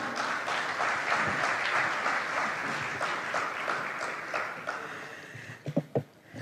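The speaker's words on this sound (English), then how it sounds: "ladies and gentlemen, a round of applause" A conference audience at a plenary session in Ghana gives a round of applause, sustained clapping that fades toward the end into a few isolated, louder claps.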